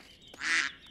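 Cartoon ducks on a farm give a single loud, nasal quack that swells and fades within a second, standing alone with no talking.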